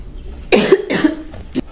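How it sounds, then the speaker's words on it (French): Two or three close, hoarse coughs in quick succession, followed by a softer final one, from a person with a cough lasting several days. "Je tousse"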